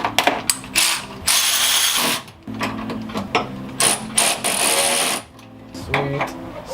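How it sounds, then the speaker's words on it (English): Ratchet wrench snugging down a fuel pump fitting on a 1JZ engine project, loud close clicking in several quick bursts separated by short pauses. "let's go get the wrenches and tighten that puppy down"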